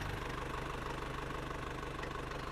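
A 1998 Isuzu Panther Royal engine idles steadily up close, a continuous low rumble with a faint rhythmic knock and no voices.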